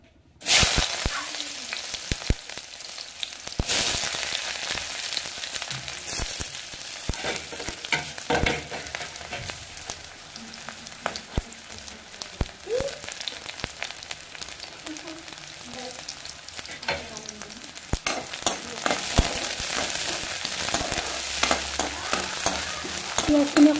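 Chopped onions frying in hot oil in a pan over lowered heat, a continuous close sizzle with frequent sharp crackles and stirring scrapes throughout, no one speaking.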